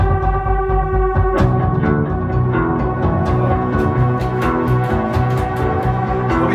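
A finger-played bass guitar with a dark, fleshy tone drives a steady line of deep, rounded notes. Sharp percussive hits layer in over the low end partway through.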